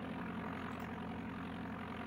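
Propeller airplane engine in the old DOS Flight Simulator game, a steady droning hum held evenly throughout with no talk over it.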